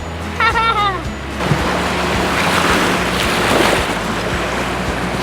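Strong wind and ocean waves at a beach, with heavy wind buffeting the microphone and a broad roar of surf building and rolling throughout; a voice briefly calls out near the start.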